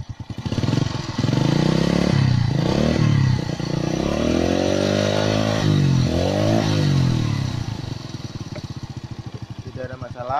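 A restored Honda Astrea Prima motorcycle engine revs up and down repeatedly, loud and close, with throaty rising and falling pitch before settling back toward idle.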